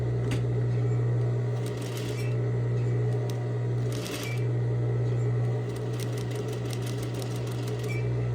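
Sewing machine stitching a curved line runs continuously with a steady low motor hum and a rapid rhythmic needle clatter, fairly quiet and close, with a few brief pauses and light handling clicks.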